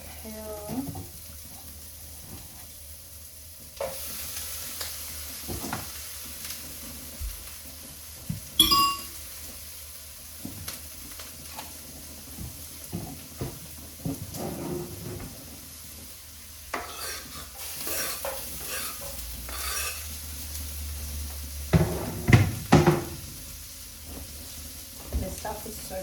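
Carrot and kale stirred in a sizzling pan, a steady frying hiss broken by scraping stirs and clinks, growing busier and louder toward the end, with brief bursts of running water.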